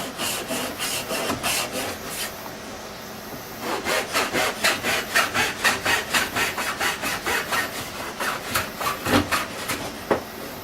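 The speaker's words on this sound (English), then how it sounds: "Even without clamping, which is hard to cut wood, you see this saw does a fantastic job." A hand saw cuts through wood without clamping, its rasping strokes starting irregular and settling into a steady quick back-and-forth rhythm, close and clear with no talking.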